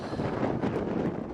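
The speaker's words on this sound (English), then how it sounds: "Oh, it's very windy. It's like a wind tunnel up here." Strong wind gusting over a rock outcrop in the Australian outback, a loud steady rush buffeting the microphone at close range for the whole moment, with no talking.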